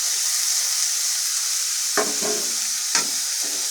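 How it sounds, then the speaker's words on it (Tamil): Green chillies and tomatoes sauté in oil in a pan for a crab gravy, producing a steady close sizzle broken by two brief scraping stirs of the spoon, with no one speaking. "சேர்த்து இதை கொஞ்சம் வதக்கிக்கலாங்க"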